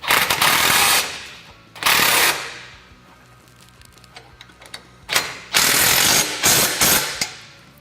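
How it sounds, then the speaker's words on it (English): Ratchet wrench clicking in bursts while tightening front bumper bolts on a Polaris RZR Pro XP, several loud close ratcheting runs separated by quiet pauses, no talking. "Go through and make sure it's all fully tightened."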